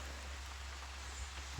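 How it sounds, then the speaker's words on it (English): Rain falls steadily outdoors beside a pond and shooting range, a soft continuous hiss with no talk over it. "It's raining too, so bear with me."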